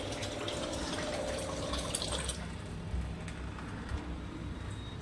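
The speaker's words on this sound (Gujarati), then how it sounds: "અને હવે આમાં પાણી નાખવાનું છે." Water is poured into a pot of khichdi, a continuous gurgling, splashing fill that is louder in the first half and then settles into a softer trickle.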